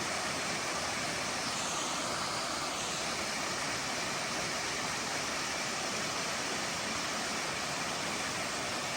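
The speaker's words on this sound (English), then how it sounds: "This one is Tom Branch Falls." Tom Branch Falls on a forest trail, a steady, full rushing roar of falling water that stays constant and loud throughout with no other sounds.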